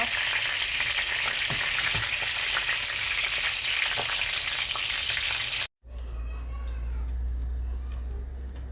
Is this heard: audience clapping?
no